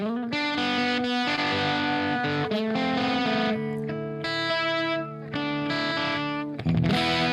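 Electric guitar with P90 pickups playing chords and a short riff with a gritty, slightly overdriven tone, ringing notes and brief pauses, loud and clear with no talking.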